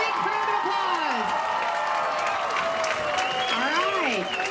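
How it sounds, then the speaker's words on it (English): Steady applause and cheering from a crowd at a high school graduation ceremony, continuous and even throughout, with a whistle-like tone sweeping above the clapping. "Give them a big round of applause."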